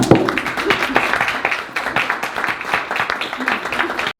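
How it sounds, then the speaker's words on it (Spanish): An audience applauds after a poetry reading at a literary gathering in Retiro, with steady, dense clapping sustained for about four seconds, close and fairly loud, a few voices mixed in, ending abruptly. "Ahora sí que la aplaudimos"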